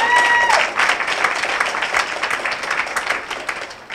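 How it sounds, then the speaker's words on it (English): A crowd applauds continuously, dense clapping that gradually thins and fades over a few seconds. "let's give all the girls who showed up today a round of applause"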